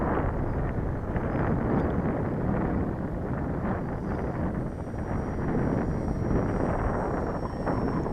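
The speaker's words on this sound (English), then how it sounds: "So much wind." Strong wind buffets an outdoor microphone while a model plane is flown, a loud, continuous low rumble that never lets up.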